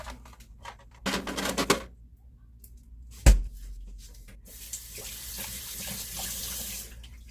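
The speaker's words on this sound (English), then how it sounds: "I rinsed it slightly with running water" Water runs from a kitchen tap in short bursts, then flows steadily and fairly loud for several seconds near the end, with a sharp knock of something set down in the sink in between.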